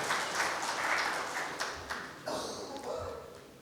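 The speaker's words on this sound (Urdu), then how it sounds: "پلیز تالیوں کے ساتھ، تالیوں" Scattered applause from a book launch audience for "Hindustan Kyun Taqseem Hua", a short burst of clapping that thins into a few separate claps, with some talk alongside.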